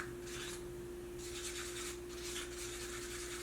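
A stick scraping around the sides and bottom of a plastic cup of mixing resin for a resin art clock, giving steady rubbing, rasping strokes in close repeated bursts with no talk.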